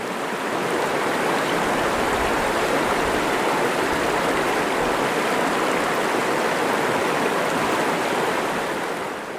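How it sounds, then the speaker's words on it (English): A stream near a campsite in the woods rushes over rocks in a loud, constant white-water roar, dense and unbroken from start to end with no voices. "That water's lulling white water roar"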